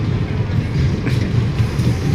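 A roller coaster train runs on its track at an amusement park in Madrid, a loud continuous low rumble with faint rattling on top, steady throughout and without clear speech.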